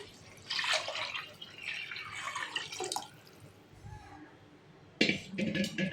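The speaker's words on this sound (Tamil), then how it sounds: "நம்ம தண்ணி ஊற்றலாம்" Water splashes and trickles into a cooking pot of rice for vegetable biryani in uneven bursts, pausing briefly before a louder pour resumes near the end.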